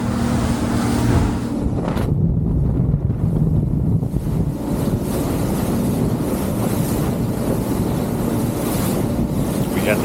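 Ocean waves in rough water off the Florida Keys wash and churn loudly under heavy wind rumble, a continuous rushing roar with no voices.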